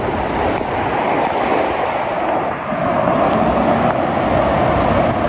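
Strong sea waves crash and roll continuously onshore, a loud, dense wash of surf noise mixed with wind buffeting the microphone, with no talking.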